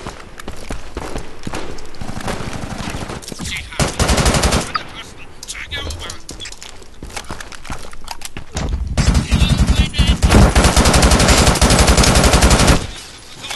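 Rifle gunfire in the shooter video game Brink, long loud bursts of rapid automatic fire broken by short pauses, with no speech over it.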